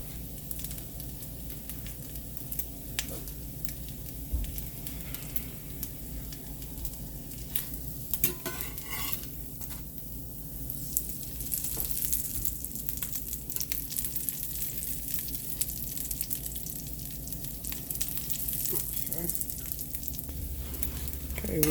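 Mackerel croquette patties fry in a hot skillet, giving a soft, steady sizzle and crackle that runs quietly the whole time with faint occasional clinks, no one talking.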